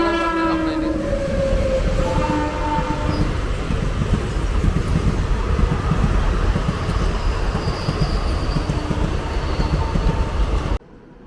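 Train at Madhukkarai railway station, a continuous loud rumble of rolling wagons with a horn sounding near the start, steady throughout before an abrupt stop.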